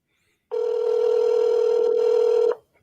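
Outgoing telephone ringback tone on a call: a single steady electronic tone held for about two seconds, loud and clear with no talk over it.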